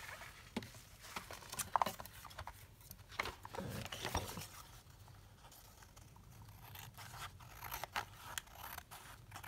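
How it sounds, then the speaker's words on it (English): Scissors trim around the edges of a paper scrapbook page, giving quiet close snips and crisp paper crunches in irregular bursts with soft rustling between cuts. "let me trim around this page"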